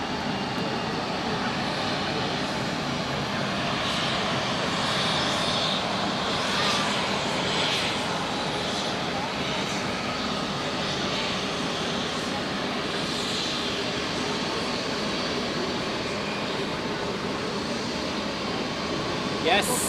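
Jet aircraft engines roar at Zurich Airport, a steady, loud, broadband rumble that holds without a break for the whole stretch.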